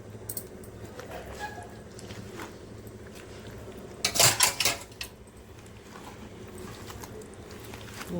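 Cleaned native fish being mixed by hand in a bowl, soft wet squishing and light clinks of the bowl, with a louder burst of jostling and clattering midway, close and otherwise quiet.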